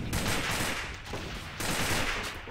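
Rapid, dense gunfire rattles in bursts during a competitive AVA match in demolition mode, close and loud automatic fire in two sustained volleys with a short lull between them.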